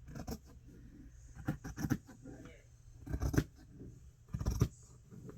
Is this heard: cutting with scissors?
yes